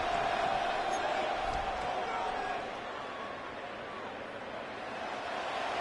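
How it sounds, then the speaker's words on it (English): Stadium crowd roaring at a Steelers football game on third down, a dense, continuous wash of noise that eases slightly midway, loud and distant-sounding, with no clear talk over it. "The crowd making their presence felt."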